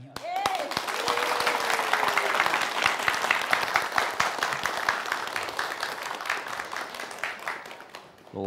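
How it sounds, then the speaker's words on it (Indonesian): Lively applause from a school audience at a call-and-response verse event, dense and sustained throughout, with a brief whistle-like tone near the start and voices mixed in underneath. "tepuk tangannya meriah nih Cak"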